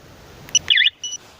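An X-MEN X999 alarm on a Lifan LF150-2E motorcycle arms with a short chirp, then a warbling electronic beep sequence and one more brief tone. The signals are close and clear over quiet background hiss.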